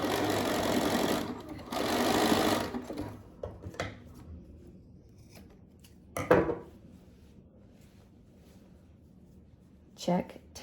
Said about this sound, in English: you can go back with that swim elastic and sew it in